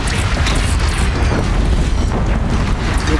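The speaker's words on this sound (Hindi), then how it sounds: "पीछे देख रहे कि मिसाइलें छोड़ रहा है।" Missiles fired by a machine in Horizon Zero Dawn explode in loud, dense, continuous booming blasts and rumble very close by, heard alone without talk.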